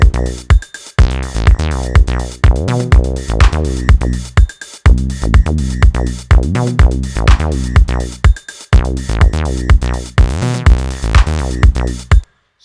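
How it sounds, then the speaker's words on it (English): Acid bass synth patch built in Alchemy, playing a loud, punchy sequence of short resonant notes with sweeping filter squelches in a steady repeating rhythm, with no voices. "So now it will sound like this."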